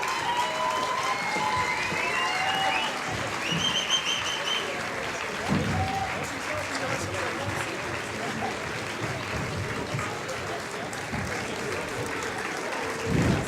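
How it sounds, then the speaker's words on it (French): Audience applause fills the hall at the close of a student theatre festival at École Centrale Nantes, a steady wash of many hands clapping throughout with faint voices and shouts mixed in. "On applaudit bien fort, s'il vous plaît."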